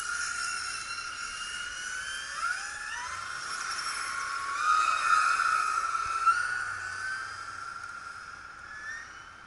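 Electric X-Ray XGT8 RC cars run together on a track, their motors giving a steady high-pitched whine that rises and falls as they accelerate and pass, heard at moderate distance without talk.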